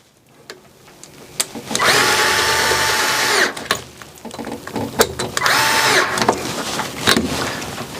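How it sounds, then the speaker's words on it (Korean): Power tool tightening bolts on a band-type metal heater fitted to a hydrant angle valve, with two sustained whirring bursts broken by clicks and clanks of metal handling. "볼트를 처음부터 이렇게 너무 꽉 조이지 마시고요. 2개 조일 때까지 살짝만 조여주시고요."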